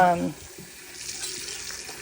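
Tap water running into a kitchen sink while being left on to warm up before home pressure canning chicken broth; a steady, soft hiss of flowing water after a brief clatter at the start.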